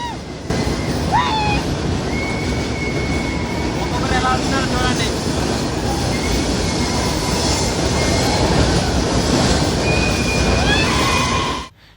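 A passenger train rolls through the Budni tunnel with a loud, steady rumble and hiss, broken by several high metallic wheel squeals. Faint voices and shouts can be heard in the background.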